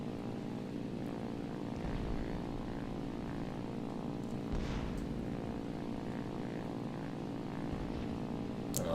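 A propeller aircraft engine drones in a flight combat video game, a loud, steady multi-tone hum with throbbing harmonics holding level for the whole stretch, alone with no voices.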